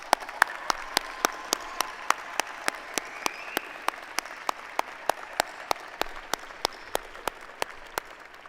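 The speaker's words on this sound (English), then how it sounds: "Will you join me in a round of applause for the class of 2026?" Graduation-day audience at the University of Alabama School of Law commencement applauds the graduating law class: a steady, dense wash of clapping with one sharp, evenly spaced clap cutting through at a brisk, metronomic pace.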